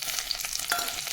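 Whole spices hit hot mustard oil and crackle in a bright, close sizzle, with quick pops and spatters over a continuous hiss during a short burst of tempering.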